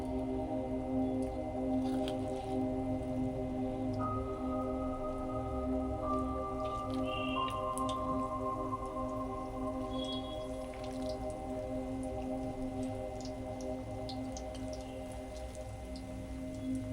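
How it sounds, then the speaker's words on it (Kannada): Sweet corn pakoda batter frying in hot oil, a steady dense crackle and sizzle with scattered pops running throughout, fairly close and continuous, with no talking. "ಚೆನ್ನಾಗಿ ಬಿಸಿ ಆದಮೇಲೆ ಪಕೋಡನ ಹಾಕ್ಕೋಬೇಕು"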